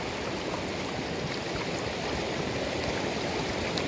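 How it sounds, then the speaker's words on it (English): A stream flows in a steady, close rushing wash with faint gurgles as water is fetched from it, continuous and unbroken, with no speech. "And now I'm now fetching the water from the stream."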